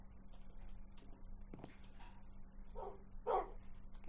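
A few short, faint dog barks from a Minecraft dog, spaced unevenly over a steady low electronic hum.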